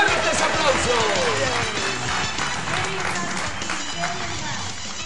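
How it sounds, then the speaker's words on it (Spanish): An audience at a live show applauds loudly and steadily for about five seconds, with cheering voices blended into the dense clapping. "¡Fuertes aplausos!"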